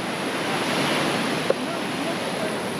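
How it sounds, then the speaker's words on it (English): Big ocean surf rolls in along the Osa Peninsula coast of Costa Rica, a steady broad wash of breaking waves heard from a distance with light wind, no talk. "we're watching the surfers take the big waves"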